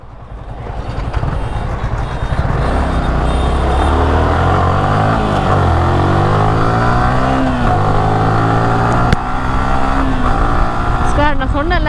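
A vehicle drives off, its engine loud and close, rising through several gear changes as it pulls away steadily over about ten seconds, with no talk over it.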